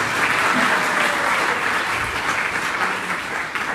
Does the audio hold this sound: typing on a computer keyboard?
no